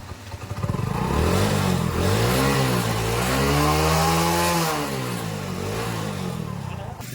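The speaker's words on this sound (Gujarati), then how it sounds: "તો આ બે બાઇકને હવે જોઈએ, એન્જિન ગરમ કરીએ" A motorcycle engine runs to warm up before the ride home, one of two bikes started together. Its loud, steady drone rises and falls in pitch, as if revved gently, across the whole stretch.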